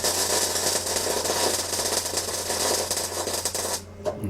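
An old MIG welder lays a reinforcing pass on a steel antenna mast collar, giving a steady, loud, crackling buzz with a low hum underneath that runs unbroken and then cuts off abruptly near the end.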